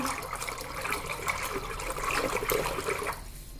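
Water poured into ragi ambali, a millet porridge with buttermilk, making a steady close splashing, gurgling pour that runs for several seconds and tapers off at the end, with no talking.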